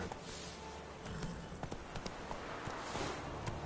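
Horse hooves clip-clopping in the Witcher 3 game, a steady walking rhythm of soft hoof beats under ambient game sound, moderately quiet throughout.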